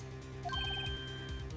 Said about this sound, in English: I heard a phone ring just now.